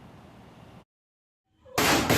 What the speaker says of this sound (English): This cell phone video captured the gunfire and the screams of the high school students trapped inside their classrooms.